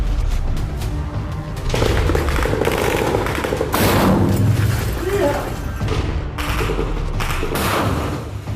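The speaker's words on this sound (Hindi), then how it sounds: "खंडहर की छत से इन दोनों टैंकों पर आरपीजी रॉकेट दाग दिए जाते हैं, जिसमें जोरदार ब्लास्ट होता है।" RPG rockets fired from a ruined rooftop strike two tanks in Gaza, setting off dense, rolling blasts and crackling bursts of gunfire-like impacts that stay loud and continuous throughout.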